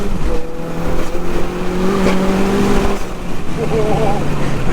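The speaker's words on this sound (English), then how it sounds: "Bro, this car's too quick." A 2.3-litre, 507 bhp Ford Fiesta hot hatch accelerates hard on a winding country B-road, its engine note rising in steady harmonic sweeps inside the cabin while occupants talk over it.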